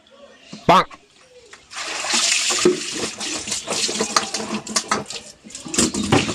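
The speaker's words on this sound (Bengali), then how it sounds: "এই আলুগুলো একটু ধুয়ে ফেলো তো" Potatoes are washed under water in a home kitchen during a comedy skit. After a short voice, a continuous loud splashing and running-water rush fills the rest, with clattering bits and people talking over it.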